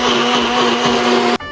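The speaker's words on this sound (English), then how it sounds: "All right, got the blender ready. Let's go ahead and blend up this shake." A blender whirs steadily and loudly while blending a thick green Shamrock Shake, with a constant motor whine that cuts off abruptly near the end.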